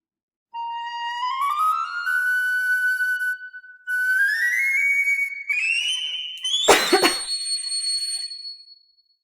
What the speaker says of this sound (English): The piccolo.